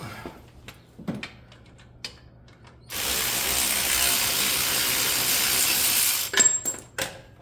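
Ratchet loosening a wheel hub bolt on a 2018-2021 Chevrolet Equinox 2WD, with scattered clicks and taps, then a few seconds of rapid continuous ratcheting close up, ending in metallic clunks.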